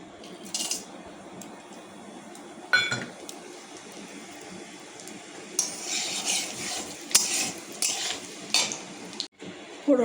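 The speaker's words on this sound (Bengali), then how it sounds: "কড়াতে এবার দিয়ে দিচ্ছি এই যে একটু গরম মশলা, শুকনো লঙ্কা দুটো, জিরে ফোড়ন দিয়ে দিচ্ছি।" Garam masala, two dried chillies and cumin tempering in a wok. A soft hiss of oil rises in the second half, mixed with scattered spatula scrapes and metallic clinks against the pan.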